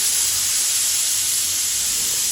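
Pressure cooker whistle venting steam while chicken pulav cooks, a steady loud hiss sustained through the whole stretch without pause.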